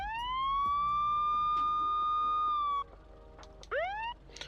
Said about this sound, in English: Here's the siren.